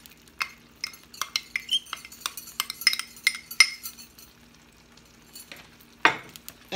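Vegetables and broccoli going into a hot pan for teriyaki chicken lo mein, giving a series of sharp sizzles and clinks of a utensil against the pan, with a louder burst of frying near the end.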